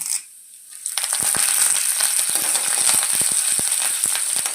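Urad dal, cumin and curry leaves dropped into hot oil, bursting into loud, close sizzling frying with sharp crackles and pops that continue steadily after a brief quiet start.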